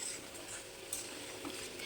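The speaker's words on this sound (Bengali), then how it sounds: "আর গ্যাসের ফ্লেমটা কিন্তু হাই রেখে এগুলোকে ভেজে নিতে হবে" Banana flower chops fry in oil over a high gas flame, giving a faint, steady sizzle with light stirring and utensil scrapes, with no talking.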